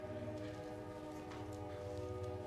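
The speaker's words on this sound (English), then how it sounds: "I'm waiting for the train to pass" A train passes at a distance with a steady, droning horn tone held over a low rumble of rolling cars, sustained and fairly faint, with no talking.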